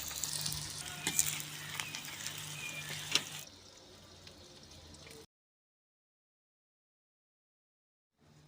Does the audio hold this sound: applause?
no